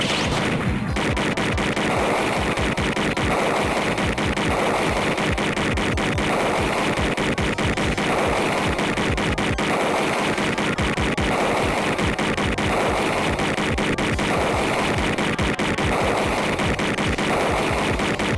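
Rapid automatic gunfire from the 1994 Sega CD game Snatcher, a dense, steady rattling stream of shots with no break, loud and continuous throughout against busy game sound.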